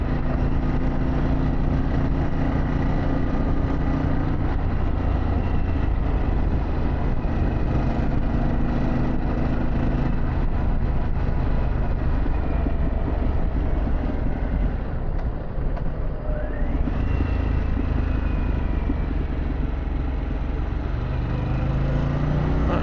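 A Harley-Davidson Pan America motorcycle with a Vance & Hines exhaust drones steadily and loudly with a deep exhaust rumble, mixed with wind noise, with no talking throughout.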